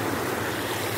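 Sea waves wash in a steady, dense roar, with no voices and some wind buffeting the microphone across the whole moment.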